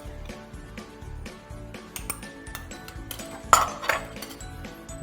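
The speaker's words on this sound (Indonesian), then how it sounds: "Untuk spicy aioli, kita campurkan spicy mayonnaise ke dalam mangkuk." Spicy mayonnaise stirred in a bowl, with light clinks and taps of a utensil against the bowl and a sharper clink near the end, over steady background music.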